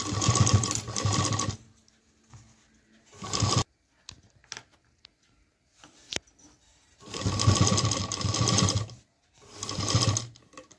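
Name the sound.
sewing machine stitching a tiffin bag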